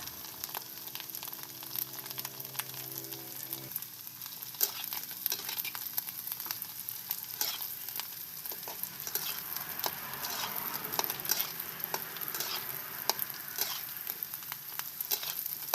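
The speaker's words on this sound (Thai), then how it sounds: "นี่ลูกชิ้นของเราก็เริ่มใกล้สุกแล้วทอดจนกว่าจะเหลืองนะคะ" Meatballs deep frying in hot oil until golden, a dense continuous crackle and sizzle with scattered sharp pops running throughout, close and steady with no voices.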